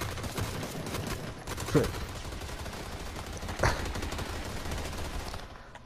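Bursts of gunfire in the battle royale game PUBG, repeated shots with two louder cracks standing out, under a person talking casually over the action.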